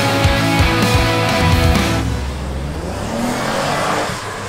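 A 2019 Lexus ES F-Sport revs and accelerates hard, its engine note loud and close with rising harmonics, then settling into a steadier drone of road and engine noise after about two seconds.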